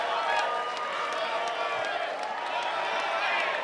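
A debate audience at the 2019 Indonesian presidential debate breaks into applause, a dense, sustained roar of clapping and cheering that stays loud and even from start to finish.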